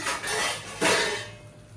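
Lid set down on a cooking pot of mahua fruit vegetable curry in a home kitchen, giving a close metal clatter and scrape, then a second brighter clank as it settles, with no talk.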